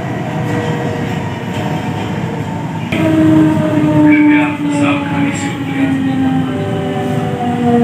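A Delhi Metro Pink Line train starts to move, with a steady rumble of wheels and carriage noise and a rising electric motor whine as it picks up speed.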